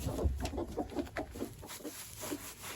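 Chickens cluck repeatedly nearby in a dirty coop on a small farm, in short, irregular bursts over a steady background hum.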